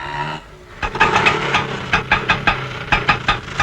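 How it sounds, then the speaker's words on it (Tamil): An auto rickshaw engine putters with a rapid, uneven knocking rhythm, rising after a brief lull and staying fairly close and loud. "ஏதோ ஆட்டோ வருது"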